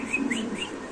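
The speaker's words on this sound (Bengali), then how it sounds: "ডিউলিপ কবুতরের ডাকটা একটু আমরা দেখে দিই" A tulip pigeon's call, short chirping, whistly notes repeated several times over a steady low background, fairly close.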